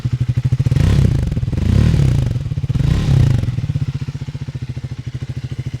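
A Triumph Speed 400 motorcycle engine idles steadily close by, its exhaust giving a deep, rhythmic throb that swells twice with blips of throttle before settling back.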